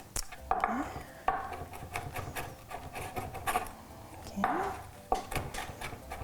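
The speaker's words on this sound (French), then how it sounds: "Hacher mon ail ici. Vraiment finement." A knife chops garlic finely on a wooden board, with irregular close taps and scraping strokes, fairly quiet and with no voice.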